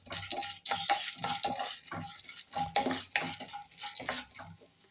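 Cashews and split chana dal roast in a pan for semiya upma, with rapid dry scraping strokes of a spoon stirring them against the metal and a light sizzle underneath, close and fairly loud.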